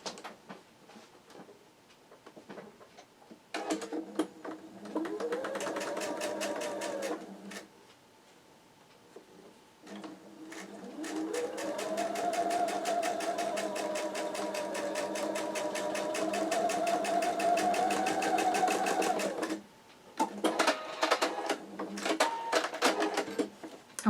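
Sewing machine stitching pieces of a ripple-effect quilt block, rapid close mechanical chatter in two long runs with a rising and falling motor whine, separated by short pauses and light handling clicks.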